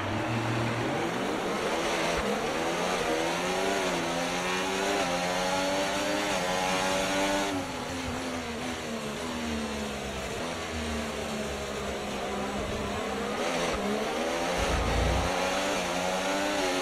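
An F1 race car launches in F1 24, its engine a loud, high buzzing whine that climbs and shifts through gears over about seventeen seconds, close and continuous with no voices.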